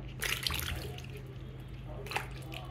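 Mushrooms are swished and rinsed by hand in a bowl of water, with soft splashes clustered near the start and again near the end over a low background hum and faint voice.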